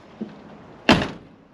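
A Chevy truck door (1988–2000 body) swings shut on new hinge pins, landing as one firm, close thunk with a brief rattle trailing off; a small tap comes just before it.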